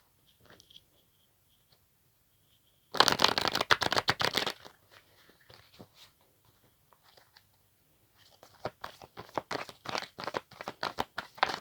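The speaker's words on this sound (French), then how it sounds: "Je bats les cartes." Playing cards are shuffled close by in a quiet room: a few soft ticks, then a dense burst of riffling, scattered light taps, and a second longer run of crisp card flicks near the end.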